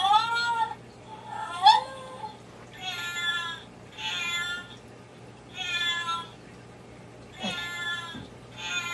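A Burmese cat meowing repeatedly, close and clear, with about seven separate drawn-out meows spaced roughly a second apart over a faint low hum.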